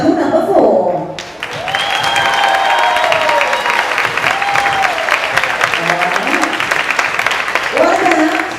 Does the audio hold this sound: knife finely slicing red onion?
no